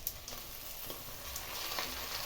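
Grated tomatoes and green pepper hitting frying matumbo (tripe) in a pan, a soft, continuous sizzle with light crackles and occasional stirring taps, fairly quiet and close.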